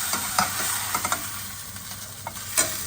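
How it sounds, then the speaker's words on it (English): A spatula scraping around a sizzling burger patty on a steel pan: a steady close sizzle with several short, light metallic scrapes scattered across it. "I'm just going to run our spatula around it."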